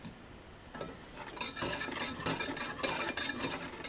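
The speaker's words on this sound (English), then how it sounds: "We're going to add a little bit more of that milk in and keep whisking it." Soy milk vanilla pudding mixture is whisked in a pot with quick, scratchy, rhythmic strokes against the metal. The strokes are moderately close and grow busier after a quieter start.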